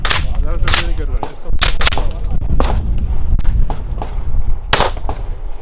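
Several sharp, loud gunshots crack out at irregular intervals at an outdoor shooting range near Stittsville, each a sudden close blast with a short tail, heard over a voice coaching the shooter.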